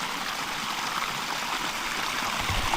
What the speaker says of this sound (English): look, that's a lot of water coming out